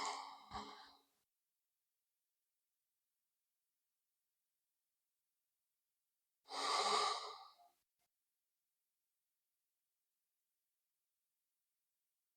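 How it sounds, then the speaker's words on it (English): Slow, deep breaths during a calm breathing exercise: one breath trails off at the start, then after a long silence a single full, airy exhale or sigh is heard close up. "Let's breathe here for about a minute"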